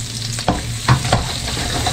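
Onion dropped into used oil left from frying fish, frying with a steady close sizzle and a few sharp stirring scrapes from a utensil, no talking.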